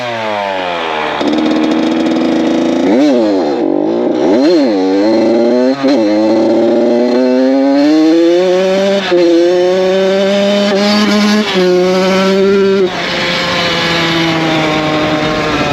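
A rebuilt Honda CR80 two-stroke dirt bike engine screams close and loud while being ridden, its pitch repeatedly rising and dropping through rapid revs and gear changes before holding a high, buzzing whine.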